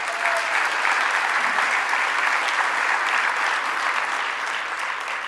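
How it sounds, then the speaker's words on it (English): Sustained audience applause fills a conference hall at a community violence intervention gathering, dense and steady from start to finish, with no voices breaking through. "Give yourselves a clap for that."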